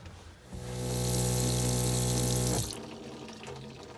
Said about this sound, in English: Pump is a little bit noisy.